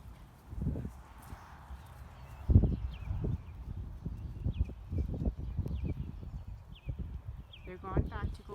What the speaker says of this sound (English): So these are 3 of their horses.